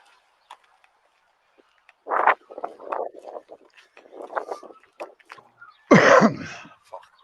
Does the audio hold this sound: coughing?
yes